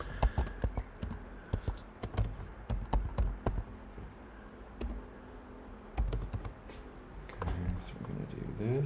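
Keystrokes on a computer keyboard come in close, irregular bursts with short pauses between runs of typing.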